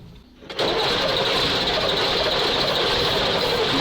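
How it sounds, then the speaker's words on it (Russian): A Praga V3S 6x6 truck engine turns over and catches after a brief quiet start, then settles into a loud, steady running roar close by, heard alone. "Сейчас запускаем мотор, надеюсь,"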